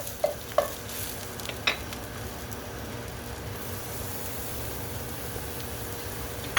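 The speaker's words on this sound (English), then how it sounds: "Right now I'm going to add some garlic to this." Garlic and onions sizzling in a pan for chicken cacciatore, a soft, steady frying hiss with a few light utensil clicks and scrapes, fairly quiet and close.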